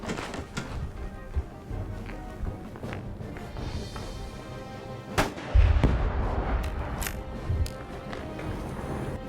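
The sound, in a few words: exploding target detonated by high-powered rifle shot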